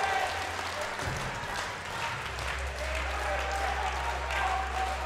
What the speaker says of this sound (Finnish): Vielä raikovat aplodit.